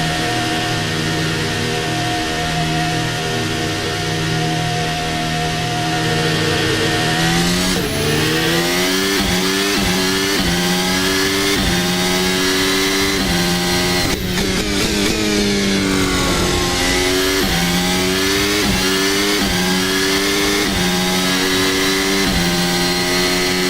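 Formula Hybrid 2023 race car engine in a racing video game at Imola, loud and continuous, with high revs climbing and dropping through repeated gear shifts and no voices over it.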